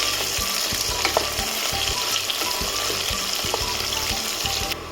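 Chopped onions fry in a pan with a dense, continuous sizzle, close and steady, with occasional stirring scrapes and no voices.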